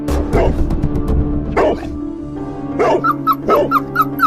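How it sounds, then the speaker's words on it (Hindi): Dog barking in several loud, close bursts, with a high yappy tone and whimpering between, set against a steady background hum. "ये कुत्ता इतना भौंक क्यों रहा है अभी हमारे पास आकर?"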